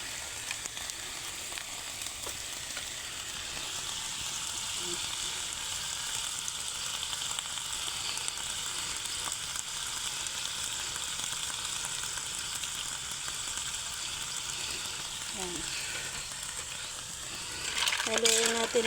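Mussels sautéing with oyster sauce in a pan for ginisang tahong, stirred as a steady broadband sizzle runs throughout, with a few scraping clinks near the end and the fry growing louder in the last second.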